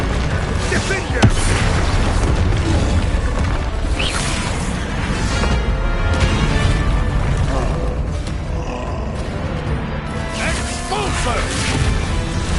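Confringo spell explosions in the Hogwarts Legacy video game, loud bursts and crashes in a dense, continuous combat din as a voice shouts spell names.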